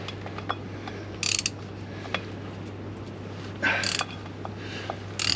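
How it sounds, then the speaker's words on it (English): Ratchet clicking in short bursts while turning a bolt on the fuel tank shield of a Range Rover L405, with a low steady hum underneath and a few faint taps between the bursts. "I'll get the smaller ratchet, I think."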